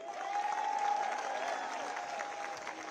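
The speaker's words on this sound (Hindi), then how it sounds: "सबसे पहले चाहूंगा कि आप सब हम सब के लिए तालियां बजाएं।" Sustained applause from a protest crowd in Delhi, a dense, even clatter of many hands clapping continuously at steady loudness throughout, with no voices standing out.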